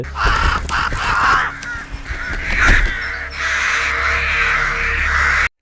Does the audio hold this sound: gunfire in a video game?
no